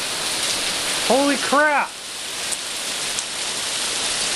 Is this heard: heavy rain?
yes